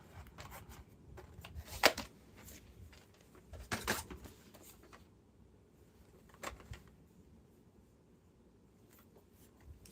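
A VHS tape is handled before being popped in, giving scattered plastic clicks and rustles with two sharper clatters early on, close and fairly quiet.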